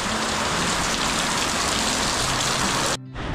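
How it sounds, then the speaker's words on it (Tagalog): Heavy rain pours steadily and loudly around a parked Toyota Avanza, a dense continuous hiss of drops drumming on surfaces that cuts off abruptly near the end. "Ayan, lumalakas na naman yung ulan."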